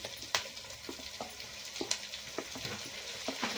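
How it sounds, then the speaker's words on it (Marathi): Vegetables with sliced onion and tomato sauté in a pan for pasta, a soft continuous sizzle broken by light clicks and scrapes of stirring, close and fairly quiet. "आता आपण हे सगळं एकदा चांगलं मस्त असं परतून घेणार आहे"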